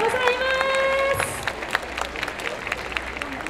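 Crowd applause at an award ceremony during the Fukukoi Asia Festival 2022, steady clapping that rises after a sustained tone fades, continuing as a dense patter with some voices mixed in.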